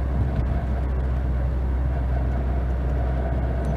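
A 1979 Mitsubishi Colt 1400 GLX on the move, its engine a steady low drone with continuous road and cabin rumble, heard from inside the car with no talk.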